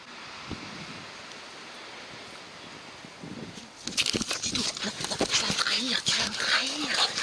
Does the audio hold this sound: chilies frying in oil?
no